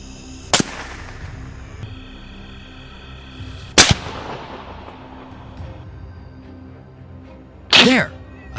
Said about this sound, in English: The gunfire continued, each shot targeting the dark shadows